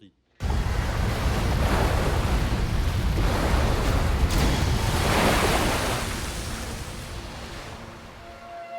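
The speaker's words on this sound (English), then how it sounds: "multiple waves batter the inside of the cavern" Loud, continuous roaring surf crashes and churns inside a flooded cave, with a booming, enclosed rumble, swelling in waves before easing slightly.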